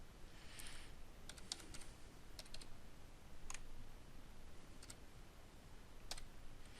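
Scattered keystrokes on a computer keyboard while entering text in Photoshop, sparse clicks at irregular intervals over a faint steady background hiss.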